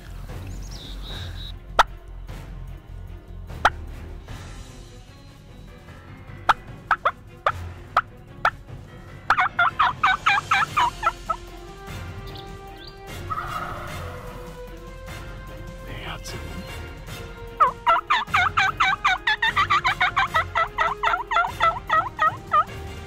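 Wild turkeys gobble in repeated rattling bursts at moderate distance, with sharp clucks and yelps scattered in between and two long, loud gobbling runs in an otherwise quiet outdoor setting.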